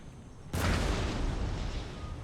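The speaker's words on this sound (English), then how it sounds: "Here comes that mortar fire." Mortar and cannon fire in the video game Empire: Total War, a single sudden deep boom followed by a long rumbling roll that fades slowly, loud and close.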